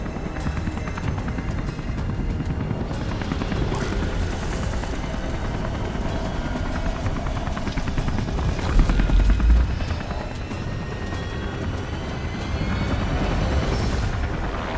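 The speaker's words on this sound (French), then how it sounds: "Faut que tu descendes l'hélico!" Steady, loud helicopter rotor and engine drone inside the video game Beyond: Two Souls, continuous for the whole stretch with a brief heavier thump midway and no talking.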